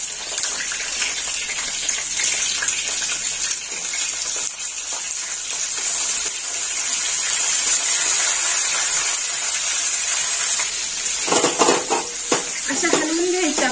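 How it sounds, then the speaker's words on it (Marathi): Bitter gourd frying in oil already seasoned with a cumin-mustard tempering, a continuous loud hiss and sizzle that swells toward the end, with clinks of a utensil. "ह्याच तेलामध्ये मी आता हे थोडस कारले फ्राय करून घेणार आहे"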